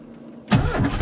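An old Citroen Visa engine catches on a cold start without throttle, a brief faint crank followed by a sudden loud burst as it fires and settles into a rough idle.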